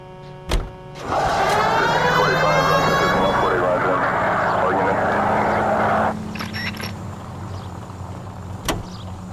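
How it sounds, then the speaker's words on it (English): A police car siren in the L.A. Noire video game wails loudly in a steady rising-and-falling pattern for several seconds, then cuts off, leaving engine rumble and a faint click at the end. "We have a siren."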